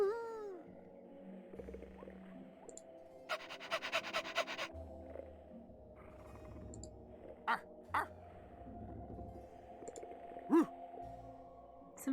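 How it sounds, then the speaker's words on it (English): A dog in The Curse of Monkey Island makes assorted panting and yappy noises, with short breathy bursts and a few sharp yelps over a quiet, hollow background. "Some pretty good dog noises."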